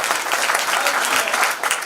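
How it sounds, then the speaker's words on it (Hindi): Loud, dense applause from a large audience at a Hindi comedy poetry gathering, a steady wash of many hands clapping at once with no pauses throughout. "पूरा समाज मिलकर एक बार सुशील भाई के लिए जोरदार तालियां हो"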